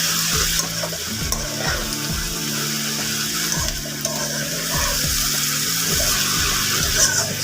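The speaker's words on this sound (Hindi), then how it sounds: "अब थोड़ी देर तक के लिए हम इसको फ्राई करेंगे प्याज" Onions fry in oil with a constant sizzle while a spoon stirs them in repeated scraping strokes against the pan, close up and fairly loud, with no talking.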